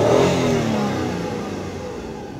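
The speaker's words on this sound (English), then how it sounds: "Rev up the engine." Hyundai Tucson engine with a crankshaft position sensor fault revving up, a close mid-pitched rise in engine tone that fades and settles over a couple of seconds.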